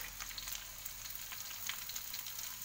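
Carrots going into a pot of chicken feet stew, giving a steady, soft sizzle and frying hiss that stays even and moderately quiet throughout, with no voices.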